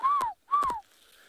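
Wild bird giving a territorial call in the African bush: two short, clear whistled hoots, each slightly rising then falling, spaced about half a second apart, moderately faint and alone against a quiet background.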